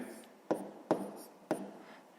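A pen writing numbers by hand on paper for a long-division problem, with three distinct soft strokes spaced through a quiet background.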